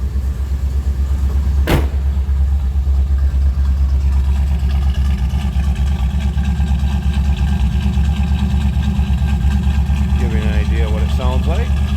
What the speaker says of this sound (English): See a list of this great sounding 305. Just that nice little rumble to it.